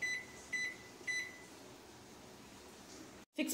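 Convection microwave oven set to 200 °C gives three short high electronic beeps as its buttons are pressed, spaced about half a second apart, then a low steady hum, followed by a sharp click near the end.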